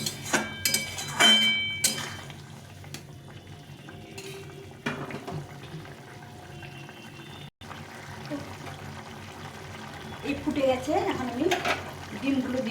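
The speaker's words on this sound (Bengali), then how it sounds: "এগুলো একটু ফুটিয়ে নিয়ে ডিমটা দিয়ে দেবো" Egg cooks in a pan of simmering vegetables with carrots, a low bubbling hiss broken by utensil clinks and stirring scrapes, growing busier toward the end, with no one speaking.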